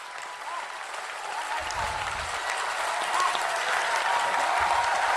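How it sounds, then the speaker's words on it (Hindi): A poetry recital audience at a kavi sammelan breaks into sustained applause, a steady crowd wash that builds slightly louder, heard alone without speech. "बहुत सुंदर, खूब जोरदार तालियां।"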